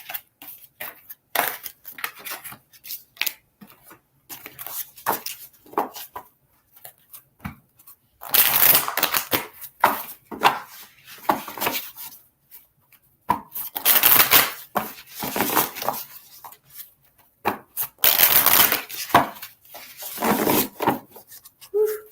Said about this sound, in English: Cards are like butter tonight. You guys hear that? Like how when they shuffle